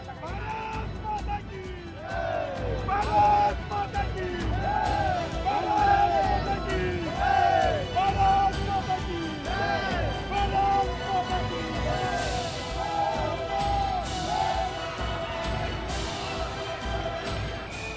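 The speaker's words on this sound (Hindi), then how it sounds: "कतारबद्ध कैमरों के सामने भीड़ का कौतूहल" A crowd commotion in front of a row of news cameras at Lok Bhavan in Lucknow, with a steady babble of many voices and scattered shouts, and occasional nearby voices standing out, continuing throughout.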